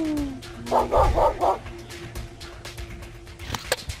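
Dog barks inside The Visitor Returns video game, a quick burst of four yips close together near the start, over low game noise with faint tones.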